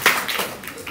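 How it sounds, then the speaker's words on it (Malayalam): A group claps for a student at a school assembly: a brief burst of close, crisp applause that fades slightly within a second. "ആദ്യത്തെ കയ്യടി കൊടുക്കേണ്ടത് അവൾക്കാണ്"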